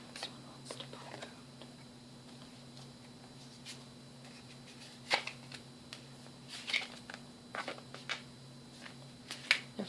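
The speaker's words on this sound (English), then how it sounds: "shuffle these cards" Large tarot cards being shuffled close up, giving soft papery riffles and sharp flicking snaps in irregular bursts, with quiet whispery breaths between them.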